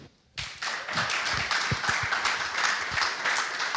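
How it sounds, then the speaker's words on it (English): Audience clapping for panelists at the close of a Web3 industry panel session, starting abruptly after a brief silence and continuing as a steady, fairly full round of applause with a few distinct louder claps near the front. "Let's give a round of applause to all the panelists."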